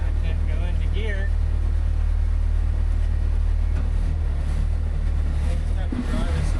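A 12-valve Jaguar double cab off-road wrecker engine idles with a loud, steady low rumble that holds throughout, close up, while someone talks over it.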